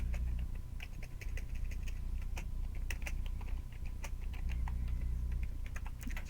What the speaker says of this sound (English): If I could type my password there